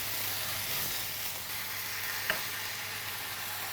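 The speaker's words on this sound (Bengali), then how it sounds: "আর একটু যেহেতু মশলাটা একটু সময় নিয়ে আমি কষাবো" Spice masala frying slowly in a pan, a steady soft sizzle of oil throughout with one brief clink of a utensil partway through, fairly quiet and without voices.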